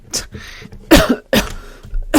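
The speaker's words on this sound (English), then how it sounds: "God, I'm coughing." A person coughs a few times in quick, harsh bursts, loud and close, with a throat-clearing rasp between them.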